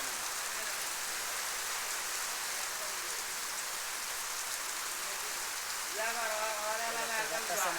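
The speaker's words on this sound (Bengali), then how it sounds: "প্রচুর পরিমাণ বৃষ্টি হইতেছে কিন্তু" Heavy rain falling steadily outdoors in a Bangladeshi village, a dense continuous hiss of drops on surfaces, close and loud throughout, with a voice speaking briefly over it near the end.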